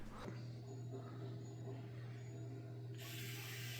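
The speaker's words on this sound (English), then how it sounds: "So this is a pretty cool little electric precision screwdriver set." A small electric precision screwdriver gives a faint, steady mechanical whir with a low motor hum, running continuously during a computer build inside a Corsair 2000D case, with a brief change in tone near the end.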